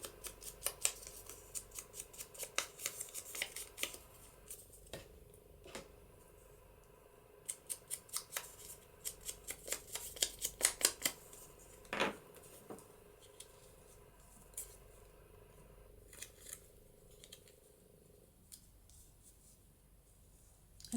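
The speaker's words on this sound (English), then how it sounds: "I'm going to just cut a little bit off of that." Scissors cut paper trim for a journal embellishment in a quiet room, giving a run of faint, close snips in short bursts with pauses between them and no talking.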